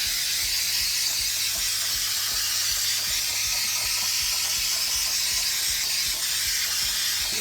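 Continuous close hiss of 3M multi-purpose spray adhesive from an aerosol can, running steadily without a break, with no one speaking.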